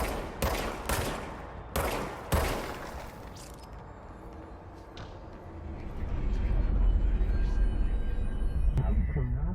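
An enemy firing a gun in the video game Control: a few loud, sharp bursts of shots early on that trail off into a low rumbling ambience and then a steady hum, with speech in the background.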